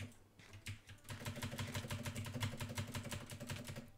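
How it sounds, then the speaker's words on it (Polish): Rapid clacking keystrokes on a mechanical keyboard during a Minecraft game session, with heavy spacebar thumps, close and continuous throughout. "Sorry, że tak słyszycie tę klawiaturę, ale mam mechaniczną i nawalam spację ostro"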